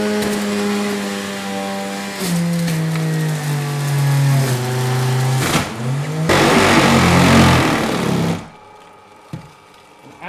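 A loud juicer motor runs steadily for several seconds, its pitch sagging and shifting as produce is fed in, then a harsher grinding burst before it cuts out, leaving a quiet tail.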